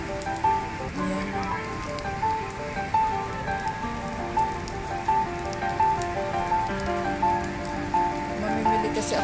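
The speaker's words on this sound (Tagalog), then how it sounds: "ang ulan talagang pahinto-hinto, tapos babalik na naman on and off ang ulan ngayon dito sa Singapore" Steady rain patters on surfaces nearby at the National Stadium in Singapore, a dense, continuous hiss with soft irregular drips, while a faint hum runs underneath.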